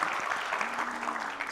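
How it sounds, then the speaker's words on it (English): A crowd applauds a speaker at an Earth Forum panel discussion, producing a dense, even wash of clapping that holds steady throughout with no talk above it. "Let's give her a round of applause."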